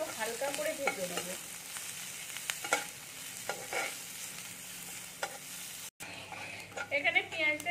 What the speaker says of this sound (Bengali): এবারে এগুলো আমি একটু ভেজে নেবো।